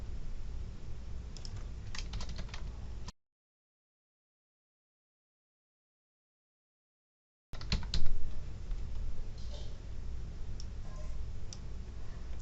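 Typing on a computer keyboard while entering vehicle details into a test request form, with steady soft key clicks in two bursts separated by a silent gap; no talking.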